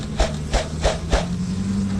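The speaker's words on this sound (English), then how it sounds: "So what we do is we pound this down." Four evenly spaced thumps as a wooden-framed bee package holding about 10,000 honeybees is pounded down to drop the cluster, over a steady low buzzing hum.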